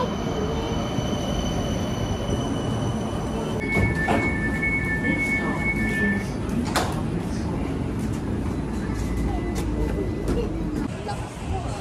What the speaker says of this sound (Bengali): ওই দূরে দেখতে পেয়ে গেছি ট্রেন আসছে।